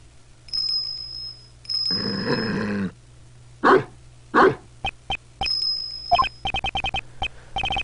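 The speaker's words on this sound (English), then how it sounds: "This dog. It has a bell on its collar." A dog wearing a bell on its collar, from the video game Ace Attorney Investigations 2, growls and then gives a run of short barks, with a high jingling tone ringing at intervals.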